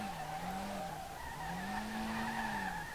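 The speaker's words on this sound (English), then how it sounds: "that was some hella drifting, it's hella drifting" Sustained tire squeal from a car drifting in the racing game SLRR, loud and continuous over a steady engine drone, with the pitch rising and falling as the slide changes, no talking.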